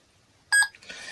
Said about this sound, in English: you get that beeping, and that beeping will constantly be going through this thing